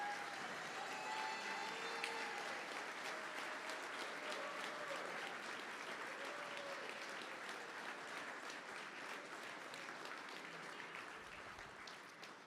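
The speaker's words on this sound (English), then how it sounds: "we want to give you a round of applause" Sustained applause for the current head coaches fills a hall at a college basketball Hall of Fame induction celebration, a steady, distant wash of clapping throughout with faint voices mixed in, tapering slightly at the end.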